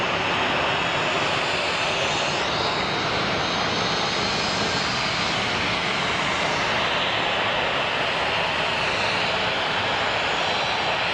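A DHL cargo jet operated by ABX Air roars loudly and steadily at Phoenix Sky Harbor International Airport, its engine noise filling the air without a break throughout.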